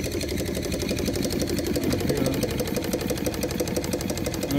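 A small steam engine runs on live steam at about 200 RPM with its valves barely cracked open. It gives an even, rapid mechanical chuffing and knocking that holds steady and close throughout.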